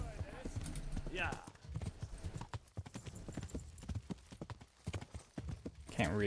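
A horse's hooves clip-clop in a battlefield video game, uneven thudding steps under a voice talking throughout, with a brief whinny-like tone near the start and end.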